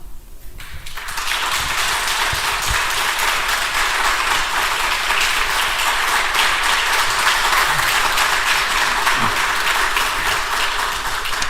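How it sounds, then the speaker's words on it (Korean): Sustained, steady applause from a church congregation in a Korean church, rising from near silence and holding loud and even for over ten seconds. "우리 목사님 나오실 때 큰 박수로 맞이하시면 좋겠습니다"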